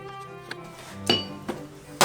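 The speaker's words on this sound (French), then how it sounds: "Je vais casser un œuf dans un bol comme ceci. Je vais le mélanger" An egg cracked into a bowl and beaten for glazing puff pastry: four sharp, bright clinks against the bowl, spaced about half a second apart, with quiet gaps between and the last tap the loudest.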